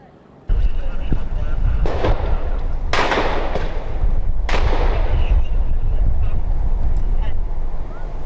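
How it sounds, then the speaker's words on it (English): Several loud, sharp gunshots ring out during a police standoff in Bankers Hill, with broadband cracks near 2, 3 and 4.5 seconds over continuous noisy background and commotion. "You heard the gunshots"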